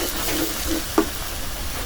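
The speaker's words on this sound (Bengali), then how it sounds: "রসুন পেঁয়াজ ভাজা নিলাম" Garlic and onion frying in a pan, a steady close sizzle broken by a few light stirring scrapes and one sharper clink.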